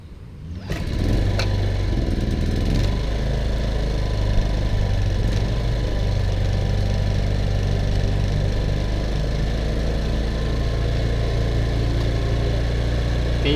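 A small portable gasoline generator runs at a steady, even drone, loud and unbroken throughout with no change in pitch.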